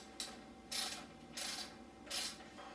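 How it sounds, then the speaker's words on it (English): A ratchet driving a T40 Torx bit on an extension to loosen exhaust pipe bolts on a KTM 300 XC dirt bike, three bursts of quick clicking separated by short pauses, close and fairly quiet. "you're going to use a T40 Torx with an extension and a ratchet here to remove the bolts"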